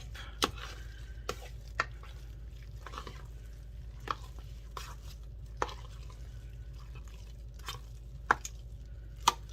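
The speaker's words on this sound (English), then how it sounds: "let's stir all of the green onions up" Green onions stirred into a twice-baked potato casserole with a spoon: soft scraping and a series of sharp clicks spaced a second or so apart over a low steady hum, close by, with no talking.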